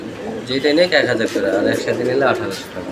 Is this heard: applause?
no